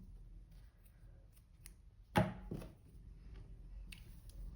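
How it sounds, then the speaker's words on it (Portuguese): Scissors make a single sharp close snip through crochet yarn partway through, set against a quiet room hum with no talking. "Vou cortar aqui."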